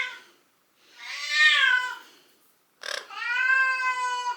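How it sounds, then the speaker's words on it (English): A house cat meows twice, loud and close, with a drawn-out first call and a second sharper one after a short pause, in a quiet indoor room. "The cat's running round."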